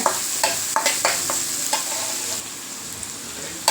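Potato stir-fry ingredients sautéing in a pan, with steady sizzling broken by sharp scrapes and clinks of a spoon stirring at irregular intervals, close and clear.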